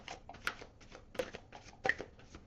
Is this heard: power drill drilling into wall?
no